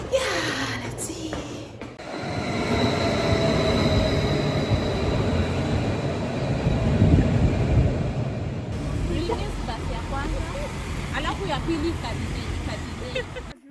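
Near a station, a rail train rumbles steadily with squealing wheels as it pulls in, loud and close, with people talking over it.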